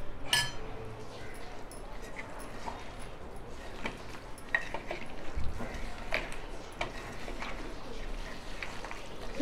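Chicken is worked by hand with yogurt and spices into a biryani marinade in a bowl, giving repeated light clinks and ticks of a spoon against the dish over soft, wet mixing noise, fairly close and quiet.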